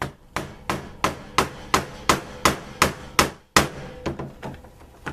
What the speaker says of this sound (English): Making sure that the chisel is perpendicular to the surface of the leather.